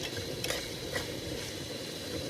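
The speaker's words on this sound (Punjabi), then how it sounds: "ਇਹ ਕੋਈ ਪਿਆਜ਼ ਪੂਰੇ ਭੁੰਨ ਰਹੇ ਆ" Onions fry in a pan at an outdoor cooking spot beside a canal, a soft continuous sizzle with a few faint scrapes of stirring.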